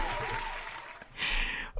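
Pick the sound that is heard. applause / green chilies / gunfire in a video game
applause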